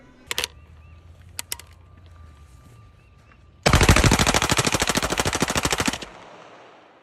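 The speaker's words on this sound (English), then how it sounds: "he takes the SMG and just sprays that thing up" A submachine gun fires one long, rapid burst of about two seconds, spraying cases of Bud Light beer. It is loud and close, and a couple of sharp single clicks come before it.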